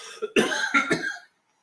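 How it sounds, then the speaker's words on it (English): A brief burst of harsh coughs, three or four in quick succession, close and fairly loud, then silence. "I got a coughing fit."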